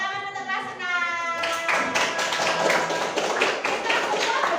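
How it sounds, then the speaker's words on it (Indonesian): Sixth-grade schoolchildren break into lively group clapping applause in a classroom, starting after a moment of voices and continuing steadily and loudly to the end. "Tepuk tangan untuk kelas 6."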